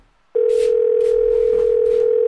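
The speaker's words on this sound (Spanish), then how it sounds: "relajada toma el teléfono para contarle su día a su hermana Carolina." A telephone handset is picked up and a loud, steady dial tone starts abruptly and holds unbroken, with faint background noise beneath it.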